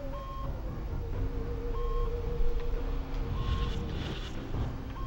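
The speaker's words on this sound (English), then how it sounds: "I hear an alarm going off." Electronic alarm sounding in the video game Destroy All Humans!, a series of repeated tonal beeps and steady tones over a busy game background with rumbling ambience, continuous for several seconds.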